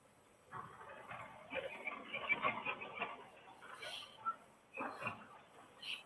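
Hens in a hen house cluck and chatter in a lively, irregular stream, several birds overlapping at moderate distance with occasional sharper calls rising above the busy background.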